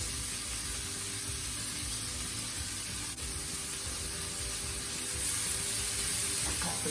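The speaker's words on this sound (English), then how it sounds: "Wait for around 3 minutes for the green peas and onion to simmer." Green peas and onion simmering in a kadai give off a steady, soft sizzle and hiss that holds unbroken at a moderate level, with no voices over it.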